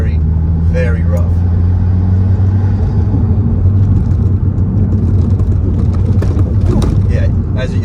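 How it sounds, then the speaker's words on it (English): A Subaru WRX rolls over a very rough, bumpy road, its cabin full of deep steady road rumble and tire noise throughout, with someone talking over it. "see how it can handle these bumps, because this road is very, very rough"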